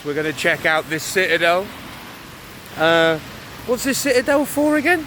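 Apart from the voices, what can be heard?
rain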